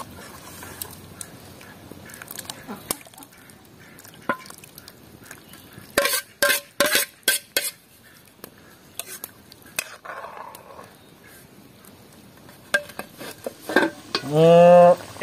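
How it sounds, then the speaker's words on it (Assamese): Goroi fish frying in a pan gives a faint sizzle while a utensil scrapes and clinks against the pan in quick bursts, with a brief louder rattle near the end and no talk. "মাছটো চব কিমান ধুনীয়া ফ্ৰাই হৈছে, টাইট ফ্ৰাই হৈছে। অকণমান লৰাই দিব লাগে।"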